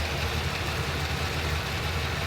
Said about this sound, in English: So, I'm just going to let the car idle.